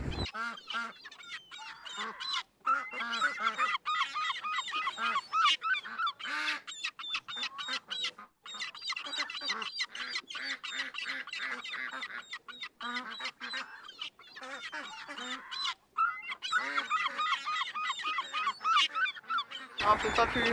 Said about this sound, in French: Regardez tous ces oiseaux.